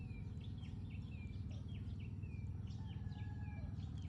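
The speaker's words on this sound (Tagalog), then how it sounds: "May mga huni-huni pa nga ng ibon sa umaga." Several birds chirp and whistle in short repeated morning calls at a farm resort in Himamaylan City, over a steady low rumble, fairly faint and distant.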